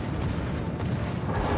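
Naval gunfire in the World of Warships battle game, a dense rumbling roar of heavy cannon blasts that stays loud and unbroken for the whole moment.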